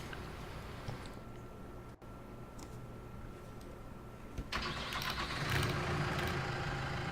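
A tractor engine in Farming Simulator 19 hums steadily at idle, then revs up louder and rougher partway through, with a brief click and no voices.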